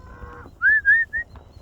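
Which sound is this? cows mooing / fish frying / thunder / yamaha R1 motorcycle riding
cows mooing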